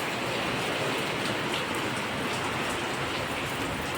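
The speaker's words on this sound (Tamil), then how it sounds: "அருமையான மழையாக இருக்குது." Steady summer rain pours down in Kumbakonam, a dense, even hiss of drops on surfaces that holds constant and fairly loud for the whole stretch, with no voices over it.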